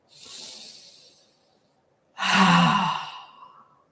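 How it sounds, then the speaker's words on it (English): Two deep breaths during a yoga session, each a long, breathy rush of air, the first softer and the second louder and fuller, separated by a brief pause with no talking. "Three cleansing breaths. Slough it off."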